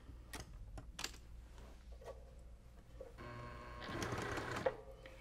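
A sewing machine stitches quilt fabric along a drawn line, giving a quiet rhythmic mechanical whir with light clicks, starting in short bursts and then running steadily louder toward the end.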